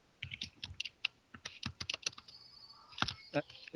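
Rapid clicking of keys on a computer keyboard, an uneven stream of taps close by, with a faint voice briefly underneath.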